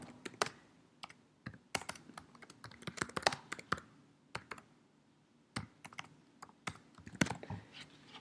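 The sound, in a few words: typing on a computer keyboard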